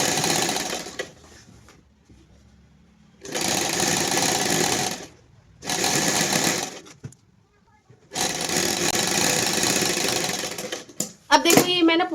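A sewing machine stitches a pocket onto a pair of trousers, running in three steady bursts of fast mechanical whirring separated by quiet pauses, with faint handling noise in between.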